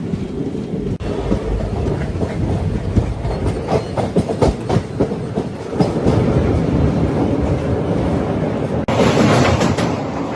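A train rolls across the Krishna river bridge near Vijayawada, loud and close, with rhythmic clickety-clack of wheels over rail joints and a heavy rumbling roar that swells and shifts partway through.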